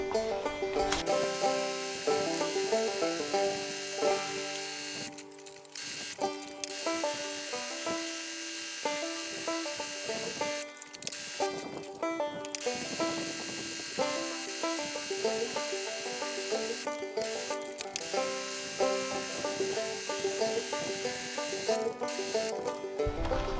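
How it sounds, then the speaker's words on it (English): A sewing machine stitches a logo and stripes onto shiny wet-look fabric for pro wrestling biker shorts, running in a steady mechanical whir broken by short pauses, with its rhythmic motor buzz close and continuous. "We're going to sew around our logo down both of our stripes and on these stripes. Sew all that down"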